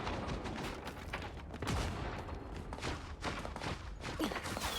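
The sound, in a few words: sniper gunfire in the video game Marvel Rivals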